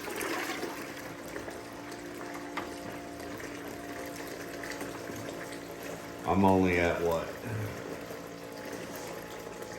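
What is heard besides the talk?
12V bucket dredge pumping water in a tub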